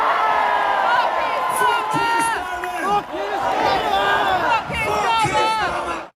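A huge Glastonbury festival crowd roars and chants in unison, a dense wall of many voices with shouted rising calls, loud and continuous before cutting off abruptly.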